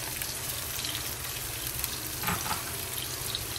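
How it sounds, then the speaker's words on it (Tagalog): Onion and garlic sautéing in a pan for chicken afritada, a steady close sizzle with faint stirring scrapes throughout, no talking. "magigisa na tayo ng sibuyas"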